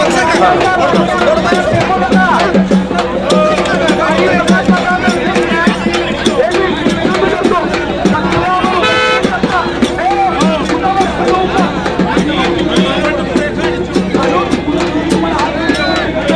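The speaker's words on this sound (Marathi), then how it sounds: "प्रचंड गर्दी है भाई प्रचंड गर्दी है भरपूर गाड़ियाँ आपने को देखने के लिए मिल रही" Huge crowd gathered at a political rally with many vehicles, a dense continuous roar of voices and chatter throughout, loud and close, with someone talking over it.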